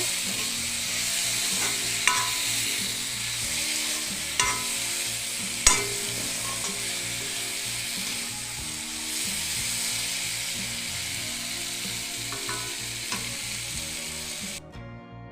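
Fried brinjal and dried fish stirred in a hot pan, a steady loud sizzle broken by rhythmic spatula scrapes and a few sharper knocks against the pan, close and continuous with no voices.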